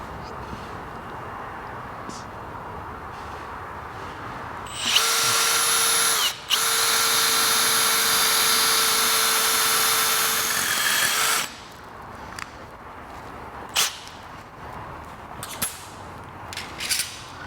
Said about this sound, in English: I'm going to start by drilling pilot holes for both sides.